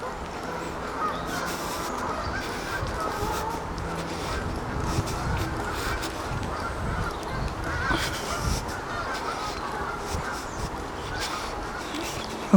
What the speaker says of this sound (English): And you can hear the birds in the background, and they're simply getting ready to fly off for the winter.